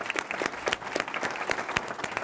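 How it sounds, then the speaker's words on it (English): Audience at a transatlantic relations conference panel applauds in a steady patter of many hands, moderately distant and sustained, with a faint voice briefly audible. "A big round of applause"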